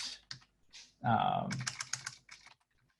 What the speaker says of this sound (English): I'll just type that out